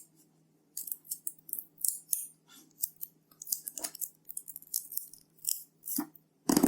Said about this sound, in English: Cut out a small piece of your tape.